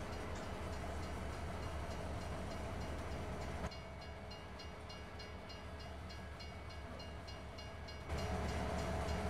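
A rented train runs in the Farming Simulator 22 video game, a steady rumbling roll of wheels on rails heard alone and without talk, with the level dropping midway and then swelling again near the end.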